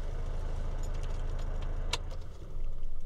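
A car engine idles steadily with a low, even rumble, then a brief click partway through and a slight rise in level toward the end, with no voices.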